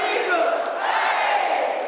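Arena crowd at a women's college basketball game, Auburn against Alabama, roaring and cheering loudly and continuously before tip-off.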